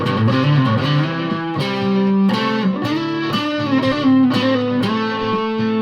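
Distorted electric guitar plays a series of sustained chords and notes, a loud gritty tone with sharp attacks, no voices.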